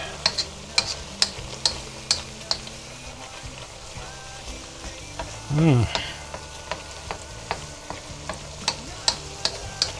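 A Chinese stir fry sizzles in a pan in a home kitchen, a soft steady crackle under repeated sharp clinks and scrapes of a utensil stirring, with one brief louder burst midway; a faint voice murmurs in the background.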